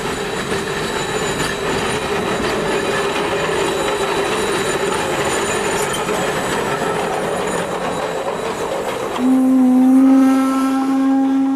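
A Shay geared steam locomotive, its crankshaft running the length of the engine, rolls with a steady rumbling, rattling railcar noise; near the end a loud sustained whistle blast sounds close by.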